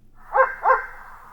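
A dog gives two quick barks, close and clear, spaced about a third of a second apart, then falls silent.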